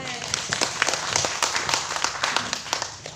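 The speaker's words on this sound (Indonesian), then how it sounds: "Beri tepuk tangan bagi Tuhan." A crowd at an open-air church service in a market claps in uneven bursts, with individual hand claps standing out sharply over a busy background and a voice partly audible underneath.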